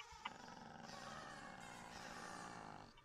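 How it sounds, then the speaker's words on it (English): A creature in the Minecraft video game growls in a low, continuous rumble lasting a few seconds, faint and alone without talk. "Something is growling, like, stay away from me, buddy."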